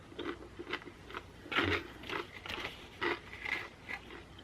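Close, quiet crunching of Takis rolled tortilla chips being chewed, a series of crisp irregular bites and crackles with small pauses between them.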